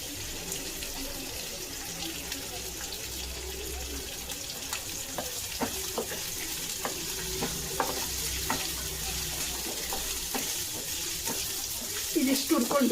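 Onion and ginger frying in oil for a vegetable keema gravy, a steady sizzle with scattered stirring clatters and spoon scrapes running throughout, growing a bit busier near the end.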